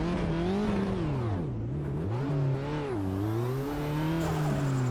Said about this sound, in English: I heard a blow-off valve